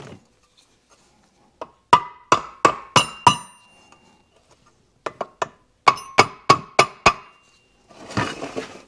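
Sharp tapping on the engine case of a Kawasaki F7 Bushwacker motorcycle during disassembly, in two bursts of about five quick metallic knocks each, close and loud, with a scraping sound at the end.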